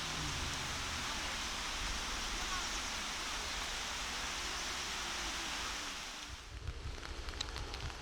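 Rain falls in Loyalsock State Forest, Pennsylvania, as a dense, steady hiss close around for most of the stretch, then eases abruptly near the end, leaving quieter patter and scattered small knocks.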